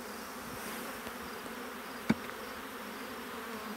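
Honey bees hum in a steady, soft drone around an opened brood hive, with one brief sharper thump partway through.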